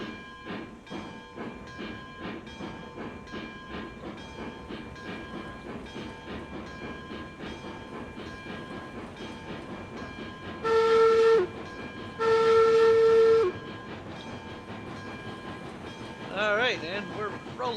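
A steam locomotive in the train game Railroads Online chuffs steadily as two long, loud whistle blasts sound in close succession, followed by a short burst of bell ringing, all over continuous hissing and rolling rail noise.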